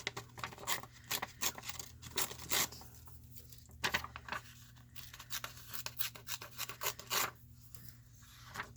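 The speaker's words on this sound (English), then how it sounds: "I just take my papers and I'm going to tear the edges" Paper scraps torn by hand along their edges for a collage, giving a run of close, short rasping rips and crinkles in irregular bursts.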